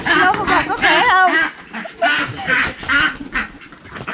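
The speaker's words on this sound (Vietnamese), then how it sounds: "Em là vịt cái, còn con này con vịt đực." Ducks, a female and a male, quack harshly and repeatedly while being held in people's hands, the calls loud and close, overlapping with conversation.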